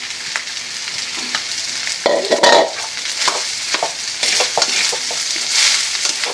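Spatula scraping and stirring through simple fried rice with egg in a hot pan, steady sizzling frying under a run of close, irregular scrapes and clanks, with no talking.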